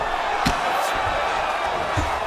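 An arena crowd roars and cheers steadily through the whole moment during a fight in EA Sports UFC 4, a dense continuous wash of voices with a couple of faint thuds.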